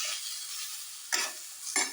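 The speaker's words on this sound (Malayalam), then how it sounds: "തക്കാളി നല്ലോണം ഒന്ന് അയണ്ട് കഴിഞ്ഞിട്ട് ഇതൊന്ന് ഇളക്കി കൊടുക്കുക." Tomatoes frying in a pan for Kerala-style rasam, stirred with a spoon: a steady soft sizzle underneath two short, sharp scraping strokes near the end, close and quiet.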